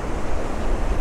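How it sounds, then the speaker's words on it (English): Big ocean swells break in the surf during a fishing outing, a brief loud wash of churning water mixed with wind rumble against the microphone, with no voices. "Big waves coming in."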